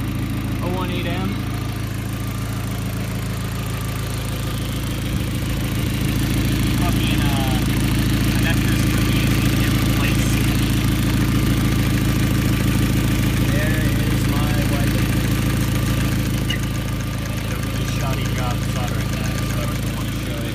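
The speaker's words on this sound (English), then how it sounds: "Alright, here it is running after the swap." An Audi B5 A4 with the 1.8T engine idles steadily after a wiring harness swap, a constant, fairly loud mid-pitched hum with a faint ticking pulse throughout.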